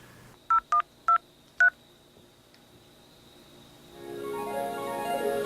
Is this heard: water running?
no